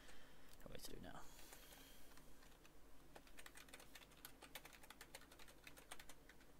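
A pip install command is tapped out on a computer keyboard, a rapid and quiet stream of close, crisp key clicks with short irregular pauses.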